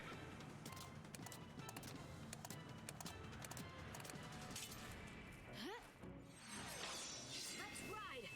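Rhythmic clip-clop of galloping hooves in Final Fantasy XIII over a busy game soundscape, with whooshing sweeps and a brief crash near the end.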